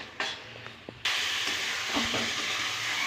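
Taro leaves with shrimp frying in a pan, a steady hissing sizzle that jumps louder about a second in after a few clinks and taps, then continues evenly.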